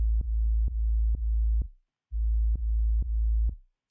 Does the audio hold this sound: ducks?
no